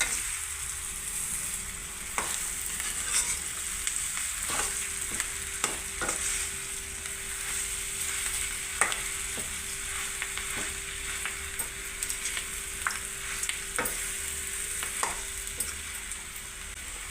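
Raw banana mash frying in a pan, stirred steadily over low heat: a constant close sizzle with a low hum and scattered soft scrapes and taps of the spoon, no talk.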